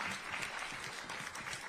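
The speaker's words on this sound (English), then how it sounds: "Let's applaud her for what she has done." An audience at a public policy forum on Black women's leadership claps together in steady, moderately distant applause that lasts the whole moment.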